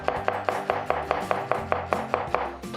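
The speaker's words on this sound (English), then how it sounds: "And then rough chop shallot." A knife rough-chops a shallot on a board in quick, even strokes, about a dozen crisp thuds in under three seconds, close and clear with no talk.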